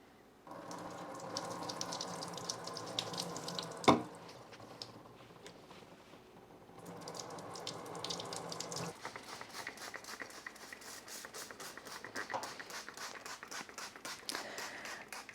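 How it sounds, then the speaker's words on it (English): Tap water runs to water a houseplant potted in perlite and soil, a steady hissing flow that stops after a sharp knock, then resumes as a pattering stream onto the soil, close by with no talking. "Let's give this a good water."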